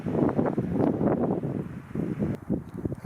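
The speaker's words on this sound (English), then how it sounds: "Nice and windy as well." Gusty wind on the Shield Trail at Bon Echo Park, Canada, buffets the microphone in low, uneven rumbles, with bursts rising and falling throughout and a light rustle underneath.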